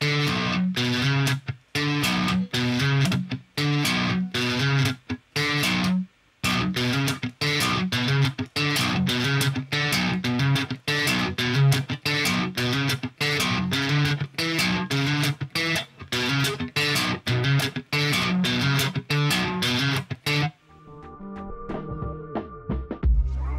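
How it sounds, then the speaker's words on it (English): A bass guitar repeats a short one-bar riff using a thumping technique, with punchy percussive thumb notes and brief gaps in a steady loop, then a final ringing decay. "I've also created a short little one-bar riff that you can play around with and move around the neck"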